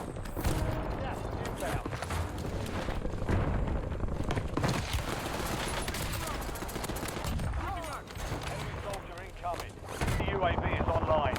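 Model L and Tanto guns firing in a Warzone match, dense rapid bursts of gunfire cracking almost continuously, loud and close, with brief pauses and a short dip before the shooting resumes.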